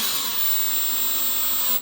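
A power drill whines steadily as it drives heavy screws into an Arrma Typhon 3s RC car chassis, loud and close, winding down at the end.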